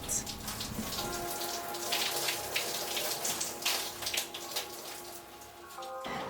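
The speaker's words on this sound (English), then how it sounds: "this deep conditioner has been sitting on my hair long enough, so let's rinse it out" Water runs steadily while deep conditioner is rinsed out of hair, a close, continuous splashing patter with uneven bursts and a brief change in the flow near the end.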